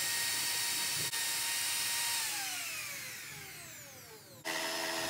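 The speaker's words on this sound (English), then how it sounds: "I prefer a plunge router." A plunge router whines steadily at high pitch cutting a wooden board, its tone sliding downward as it cuts, then briefly cuts out and restarts near the end.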